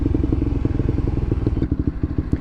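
A motorcycle idling and rolling slowly through a city street in Birmingham's Jewellery Quarter, a loud close rapid engine putter with a steady pulsing beat and some clatter, without talk.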